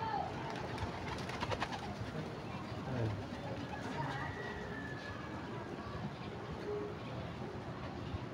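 Pigeons in a coop coo steadily and softly in a close chorus, with a few flutters and scrapes mixed in, while faint talk runs underneath.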